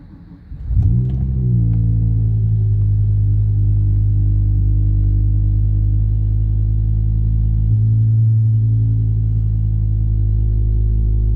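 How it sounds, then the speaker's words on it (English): A BMW E60 M5 engine with a battery charging problem cranks briefly, then catches and settles into a steady, loud, close idle that holds for the rest of the clip, with no talk over it. "Let's gonna start the car."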